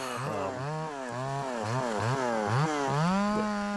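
A ported Craftsman 3.3 chainsaw, used for tornado clean-up, runs close and loud, its engine revving up and dropping back in quick repeated surges before holding a high pitch.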